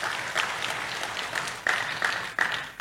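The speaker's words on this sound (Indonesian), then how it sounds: "Tepuk tangan buat Tuhan Yesus." A congregation claps during an Indonesian church sermon, a short burst of steady applause from a hall crowd with a few sharper clap peaks near the end.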